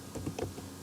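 A few quick keystrokes on a computer keyboard while a URL is typed into Internet Explorer, soft and close, about four taps over a low hum, no talking.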